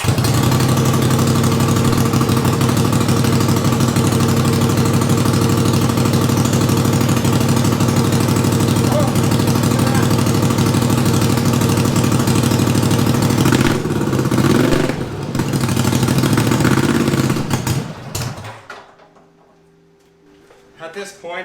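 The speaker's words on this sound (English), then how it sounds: "We'll try putting it in gear and see if it will stay running when it's in gear." A racing lawn mower's small engine runs steadily at a loud, close idle with a constant throbbing drone, briefly dipping and sputtering near the end as it is put in gear before recovering, with someone speaking over it.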